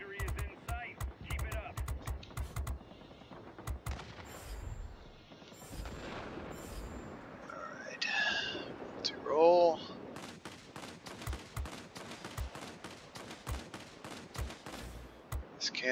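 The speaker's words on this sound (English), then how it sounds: "These cannons are nice." Bursts of rapid aircraft cannon fire from a Kyushu J7W3 fighter and explosions in World of Warplanes, crackling repeatedly at mid volume with brief pauses, alongside a few whooshing effects.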